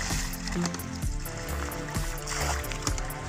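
Water flows at a village water source in Ghori, Abbottabad district, a continuous trickling and splashing with a few soft knocks, steady and nearby, with no talk.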